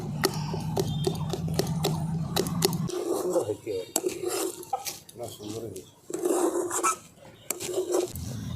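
Steady scraping and clinking of a utensil in a pan as milk, rice flour and mung dal flour are stirred into a thick dough, continuing under a speaking voice.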